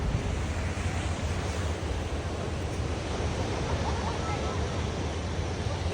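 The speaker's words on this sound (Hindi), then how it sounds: "शाहरुख खान भैया के घर के आगे मस्त सा समुद्र है" Broadband sea surf washing steadily in front of Shah Rukh Khan's house in Mumbai at night, a continuous roar of waves with wind buffeting the microphone throughout.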